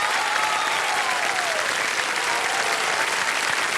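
A television quiz show studio audience applauds, a thick, continuous roar of clapping at full volume with no pauses.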